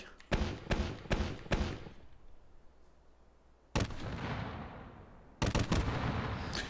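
Mortar-style launcher in Hot Dogs Horseshoes & Hand Grenades fires three quick thumps, then after a pause two heavy booming launches, each trailing off with a long rumbling decay, loud and close.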